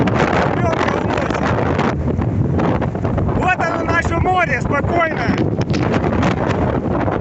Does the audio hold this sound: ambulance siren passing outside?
no